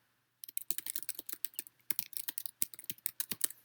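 Steady, fast computer keyboard typing, a dense run of crisp close keystroke clicks with only brief gaps, heard alone without any voices.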